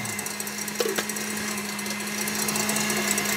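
A steady mechanical whir of an electric whisk beating sugar with egg yolks, continuous and fairly close, with a couple of brief clatters early on.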